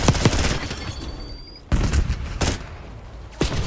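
Sniper rifle fire in the Black Ops 6 video game: a few sharp, loud shots with booming tails, spaced out over a few seconds, under a steady game background.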